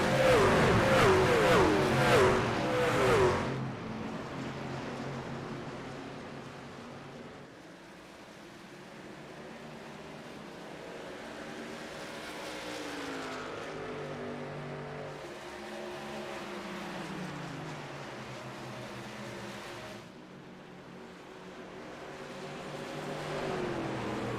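Racing trucks at Gateway roar loudly as they accelerate off a restart into turn one, a dense engine blare that fades to a rising and falling whine of motors passing at a distance.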